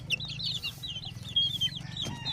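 Native chickens, a group of hens with young roosters, cluck and chirp in short repeated calls over a steady low farmyard hum, close and moderately loud with no talking.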